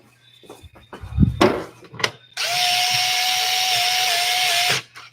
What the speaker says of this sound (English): This little 4-volt gun's got some torque on him.